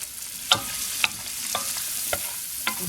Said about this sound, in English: Wow, they are cooking up really nice. Stir them around a little bit.